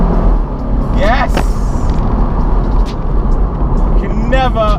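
A BMW Z4 on the move gives a steady, loud roar of engine and road noise that runs unbroken, with a few brief higher chirps rising over it.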